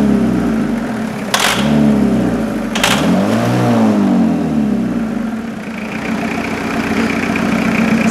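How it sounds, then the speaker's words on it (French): A diesel car engine with a leaking exhaust idles loudly and steadily, its low rumble swelling and falling through a couple of revs, with two sharp bursts early on and a slight hiss later. "un moteur diesel, ça peut s'emballer"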